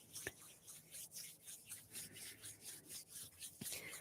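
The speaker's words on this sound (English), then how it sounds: "rub our hands a little bit first to get our hands moving" Palms rubbing together steadily during an outdoor prayer and meditation circle, a soft, rhythmic swishing that repeats about twice a second, quiet and close, with no talking over it.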